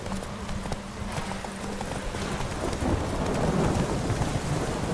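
Horse hooves gallop steadily through a derby race in The Witcher 3, a continuous rapid clatter of game sound that builds slightly louder toward the end.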